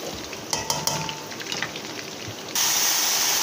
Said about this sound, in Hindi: आलू हमारे फ्राई हो रहे हैं, इसे हम 1/2 डन करेंगे।